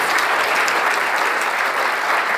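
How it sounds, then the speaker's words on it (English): Conference audience applauding, a dense, steady wash of many hands clapping throughout, no voices over it. "can we have a big round of applause?"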